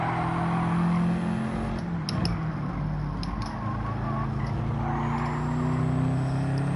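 A race car in the Gran Turismo 7 video game revs with a sustained, loud engine drone whose pitch climbs and shifts as it closes in and passes, with brief tire noise.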